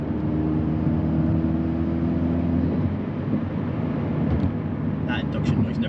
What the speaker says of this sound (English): That induction noise never gets old.